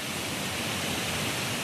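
A waterfall in Madagascar, with a rope strung across in front of it, pours as a steady, dense broadband roar that stays even and unbroken throughout, with no voices.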